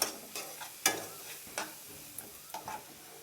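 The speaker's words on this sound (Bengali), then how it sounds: "এবার আমি ভালো করে মশলাটাকে কষিয়ে নিচ্ছি।" Spices with Kashmiri chili powder, sugar and salt sauté in a pan for a fish-head cabbage dish, with a soft sizzle under occasional clinks and scrapes of a spoon stirring against the pan, close and quiet.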